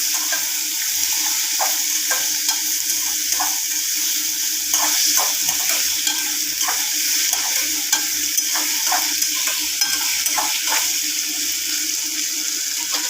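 Onion, tomato and ginger-garlic paste with cinnamon and cloves sauté in a pan for potato kurma, giving a steady hiss with frequent sharp stirring scrapes throughout.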